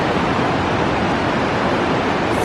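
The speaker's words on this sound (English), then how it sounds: "So the Spokan Falls said somewhere it's the largest urban waterfall." Spokane Falls, a large urban waterfall, pours with a constant, full roar that fills the short stretch evenly and loudly, with no voices on top.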